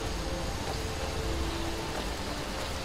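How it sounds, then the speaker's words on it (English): Steady rain falls in the Skyrim game world, a dense even hiss of drops with a faint low tonal hum running beneath, continuous and close for the whole stretch. "Oh, it's raining again!"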